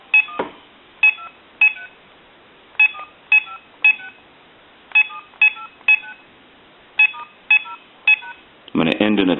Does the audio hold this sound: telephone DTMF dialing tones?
yes